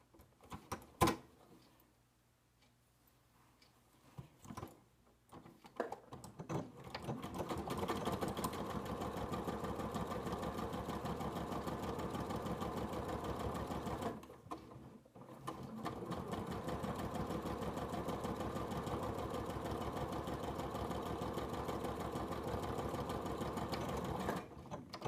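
A sewing machine runs steadily while stitching a welt pocket, a loud, even mechanical whir after a few handling clicks, pausing briefly midway before the stitching resumes.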